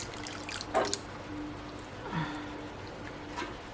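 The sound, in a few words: pouring thickening slurry into tomato bisque soup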